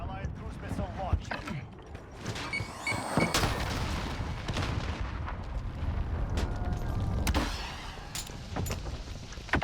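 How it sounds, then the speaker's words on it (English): Heavy booms from an allied cruise missile strike in Call of Duty roll out in a few broadband blasts over ongoing battle noise and gunfire, with players talking throughout. "Allied cruise missile launched."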